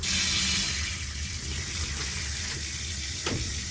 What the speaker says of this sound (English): we're going to grab another towel to turn our water on